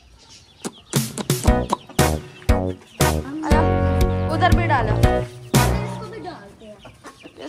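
Hens and chicks cluck and squawk close by in busy bursts, with a rooster's drawn-out call in the middle, while a person talks over them.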